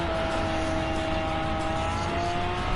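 A race car engine in Gran Turismo 7 holds a loud, steady high-revving drone with a sustained whine throughout, close and continuous, with no talk over it.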